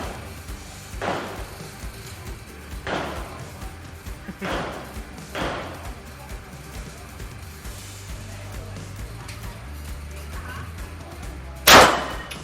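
ZEV P320 pistol fired at an outdoor shooting range, several sharp separate shots spaced a second or two apart, moderately distant, with a louder crack near the end.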